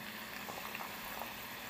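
Basil oil heating in a pan gives a steady, faint sizzling hiss, broad and continuous with small bubbling pops throughout, and no voices.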